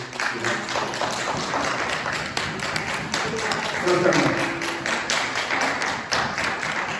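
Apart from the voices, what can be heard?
audience applause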